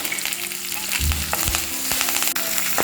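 Steady loud sizzling and crackling of crushed ginger, garlic and green chili frying in a hot pan, with brief clinks and scrapes of stirring throughout.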